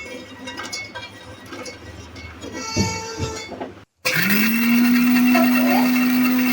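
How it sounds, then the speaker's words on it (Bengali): Background noise gives way, after a brief cut, to a loud, steady blender whirring and grinding nuts close by with a constant high drone. "দেখুন ব্লেন্ডারে ব্লেন্ডের কাজ চলতেছে"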